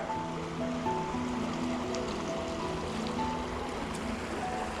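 Water flows steadily along a clear river on a fall hike, a continuous close rushing and burbling wash with faint tonal tones layered through it, no voices.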